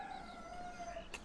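A single long rooster crow drawn out over about a second, distant and faint against steady rural background noise, with a brief sharp sound near its end.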